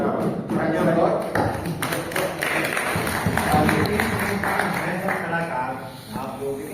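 Artists at a Hindi music program rehearsal clap together in a steady, rhythmic run of claps while people talk over it.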